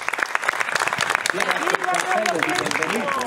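A crowd in Piazza Nostra Signora dell'Orto in Chiavari applauds the arrival of the new bishop, Devasini, as he embraces the bishop emeritus. The clapping is steady and fairly distant, building slightly, while someone narrates over it.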